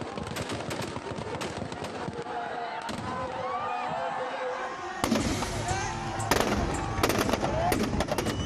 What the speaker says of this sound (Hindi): पटाखों की तड़तड़ाहट के बीच